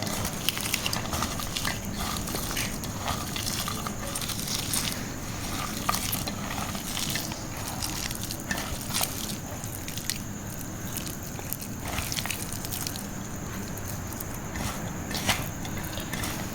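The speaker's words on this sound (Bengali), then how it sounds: "মরিচটা একটু ভালো করে ম্যাশ করে নিচ্ছি" Onion and green chili being mashed by hand with salt, a continuous close-up squishing, crunching patter with soft wet pressing sounds throughout.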